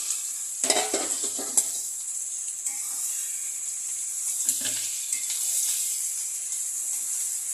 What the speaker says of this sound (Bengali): ইঁচড়টা দিয়ে ভালো করে কষা কষা হোক